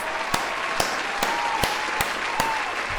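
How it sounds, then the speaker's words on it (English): A slow, sarcastic clap: six sharp, evenly spaced claps roughly every half second, close and distinct over a faint background. "Round of applause."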